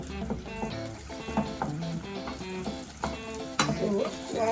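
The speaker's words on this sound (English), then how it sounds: "So while the onions are cooking" Onions frying in a pot as the base for Ghanaian jollof rice give a steady, close sizzle and crackle with occasional stirring scrapes, and the bubbling rises briefly toward the end.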